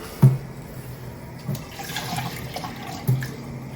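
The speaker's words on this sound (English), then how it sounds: "With a half cup of water." Half a cup of water is poured into a pot of stewing duck and pepper, a soft splashing and trickling with a few light knocks, close and moderately loud.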